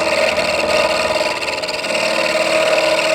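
Parting tool cutting square wood stock spinning on a lathe, a loud continuous scraping rasp with a steady motor hum and fast rhythmic knocking from the square corners striking the blade.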